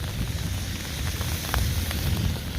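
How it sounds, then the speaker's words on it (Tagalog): Steady rain patters and hisses continuously, a dense, even wash of drops with a low rumble underneath and no voices. "ganito lang yung ulan niya. Tuloy-tuloy lang."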